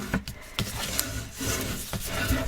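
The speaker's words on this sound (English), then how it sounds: "you can flip it over and give it a little burnishing" Paper edges of a photo album cover being burnished with a tool, giving a series of close, dry rubbing and rasping strokes in an irregular rhythm, with no talking.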